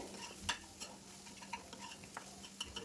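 Spatula stirring and lightly mashing scrambled egg with vegetables in a frying pan, giving soft intermittent scrapes and taps over a faint sizzle, quiet and close with no talk.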